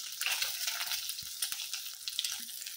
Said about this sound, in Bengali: এই জন্য ভাবলাম আগে ডিমটা ভাজাতে দিই